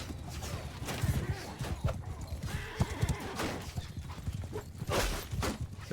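Horses gallop in the Mount & Blade 2 Bannerlord video game during a fortress siege, with fast clip-clop hoofbeats and neighs amid battle noise. A voice talks faintly underneath.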